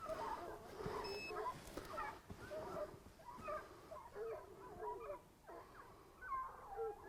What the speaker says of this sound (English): Dogs running now.